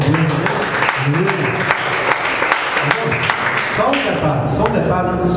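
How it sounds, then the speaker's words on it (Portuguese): Applause from a church congregation, a dense steady clatter of many hands clapping throughout, with voices and music-like tones mixed underneath. "E que as palmas louvem a Deus."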